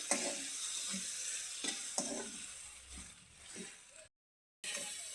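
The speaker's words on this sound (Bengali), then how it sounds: "ভালো করে ভাজে নেবো" Spices with a spoonful of turmeric sizzle and fry in a pan while being stirred, scraping sounds recurring every second or so over a steady close hiss, broken by a brief gap of silence near the end.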